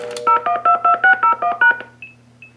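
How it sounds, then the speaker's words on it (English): A pulse-dial-to-DTMF converter in blue box mode plays back a stored sequence: about eight crisp, evenly spaced touch-tone beeps in quick succession, followed by two short high single beeps, loud and clean over a faint low hum. "now we're going to dial the DTMF sequence out of memory"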